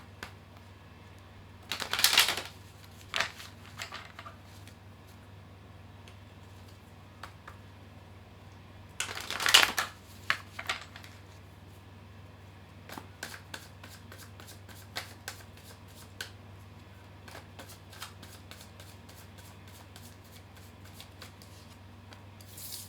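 Tarot cards being shuffled in two clear riffling bursts, followed by scattered soft taps and slides of cards being handled, close and quiet over a steady low hum, with no talk.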